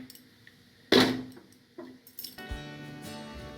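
A metal lid clanks down onto a pan of simmering shahi matar paneer, one sharp clatter followed by a few lighter clinks and rattles as it settles, close and with no talking.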